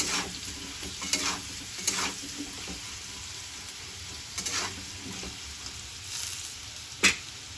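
Potatoes and garlic with turmeric being stirred in a frying pan, a steady close sizzle of frying under repeated scraping strokes of a spoon, with one sharper knock near the end.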